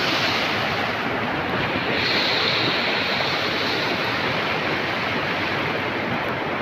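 A creek flows nearby on a rainy day, giving a dense, constant rushing wash of water with outdoor ambience. It stays unbroken and fairly loud throughout, with no voices.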